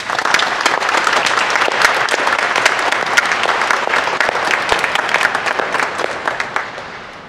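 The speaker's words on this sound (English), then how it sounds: "Let's give our young people an applause." A congregation at a church Mass applauds its young people, a loud, sustained round of clapping that swells and then thins toward the end.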